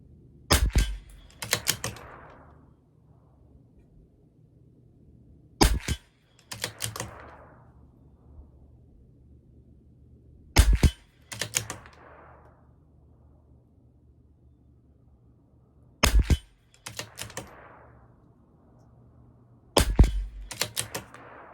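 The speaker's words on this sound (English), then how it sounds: "There's our 10 shots for fouling." CZ457 rifle shots fired at 50 yards crack sharply, mostly in close pairs spaced several seconds apart, each followed by a short echo and the clatter of working the action.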